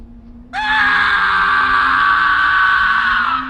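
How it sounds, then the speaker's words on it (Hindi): A single painful scream erupts suddenly and holds loud and sustained for about three seconds, close and raw, set in an Indian horror drama scene. "एक दर्दनाक चीख और उसके बाद सब खत्म हो जाता है।"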